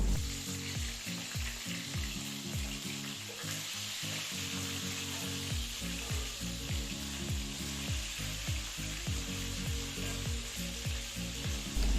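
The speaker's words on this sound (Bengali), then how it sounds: "তেল গরম হয়ে গেছে আমি নুন হলুদ মাখিয়ে রাখা কাঁকড়াগুলো তেলের মধ্যে দিয়ে দেবো" Crabs coated in salt and turmeric fry in plenty of hot oil in a kadai for a spicy crab curry. A loud, close, continuous sizzle runs under rapid, regular crackling pops, and no one speaks.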